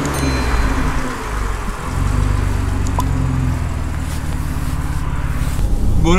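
An Audi S4 with an APR tune, compressor and Milltek exhaust rumbles loudly at close range, a deep steady idle with a brief swell of revs partway through.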